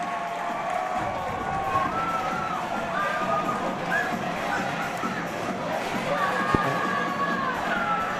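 A crowd at a men's college ice hockey game between Dordt and Nebraska-Omaha cheers steadily throughout, with shouts and whoops rising over a continuous roar in a large arena, while commentators talk over it.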